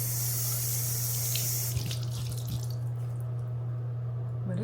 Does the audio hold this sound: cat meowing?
no